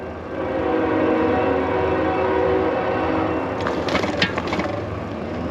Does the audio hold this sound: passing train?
yes